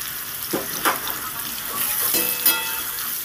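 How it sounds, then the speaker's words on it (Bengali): Papaya and potato pieces frying in oil, a close steady sizzle with a few brief scraping stirs of the spatula in the pan. "পেঁপেটা হালকা করে ভাজা হয়ে গেছে, আর একটু নেড়ে ছেড়ে আমি ভেজে নেব।"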